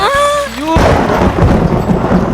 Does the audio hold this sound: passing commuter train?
no